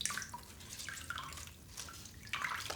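Water drips and trickles from squeezed pulp made from fungi for handmade paper, a steady wet patter with brief splashy bursts, close and fairly loud, with no talk.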